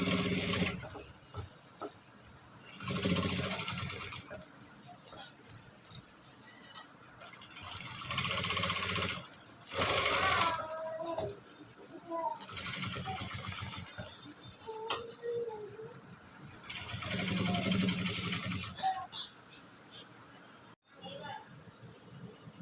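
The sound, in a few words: sewing machine stitching a frock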